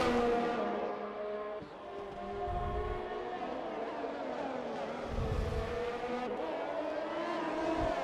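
Formula race car in a racing game at the Mexico track, engine droning with steady harmonic whine that dips and rises through gear changes, fairly loud and continuous.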